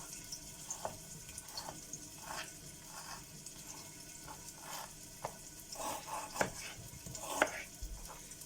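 Minced meat filling sizzles and fries in a pan for Turkish karnıyarık, with a soft continuous crackle under repeated stirring scrapes and clatters, moderately close but fairly quiet.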